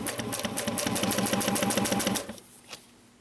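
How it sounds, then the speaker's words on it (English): Sewing machine running a quarter-inch seam at a steady rapid rhythm for about two seconds, then stopping and leaving quiet room tone with a single soft click. "I'm going to stitch with a 1/4 inch seam allowance"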